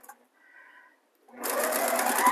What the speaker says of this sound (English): Now I'm doing a couple of stitches and then feeding the next one right into it.